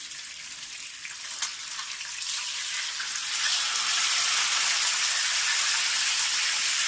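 Fish frying in a pan on its second side: a steady, bright hiss of sizzling oil that grows louder and denser after a few seconds, with a few small pops early on and no talking.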